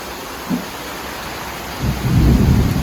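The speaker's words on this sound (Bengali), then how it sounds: "মাম্মা অনেক জোরে বজ্রপাত হচ্ছে" Thunder rumbles loudly and close through a heavy rainstorm, a low roll building near the end over the steady hiss of rain, with a short muffled thump just before.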